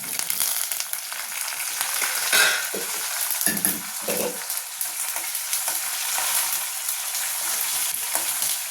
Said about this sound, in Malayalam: ഇപ്പം വെളിച്ചെണ്ണ ചൂടായിട്ടുണ്ട്. നമുക്കതിലോട്ട് കടുകിടാം.